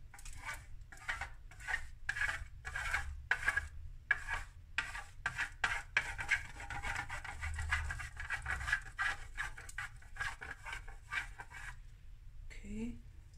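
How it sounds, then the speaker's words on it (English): Chocolate being grated over a chocolate and berry trifle, a run of quick, faint scraping strokes in a steady rhythm, close by and fairly soft, with a brief clatter near the end. "Then some grating of chocolate."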